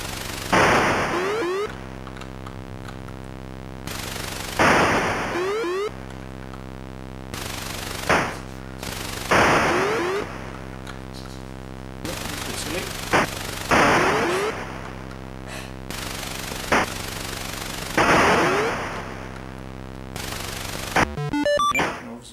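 Rapid gunfire bursts and booming area explosions from a retro console shooter game, mixed over a steady electronic music loop, repeating in loud waves throughout without any talk.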